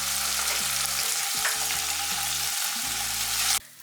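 Prawns frying in ghee for a ghee roast, a dense, close sizzle with several stirring knocks, cutting off abruptly near the end.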